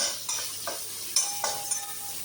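Sea crab curry ingredients with salt sautéing in a pan, a steady sizzle broken by several scraping stirs of a spoon against the pan, close and alone with no talk.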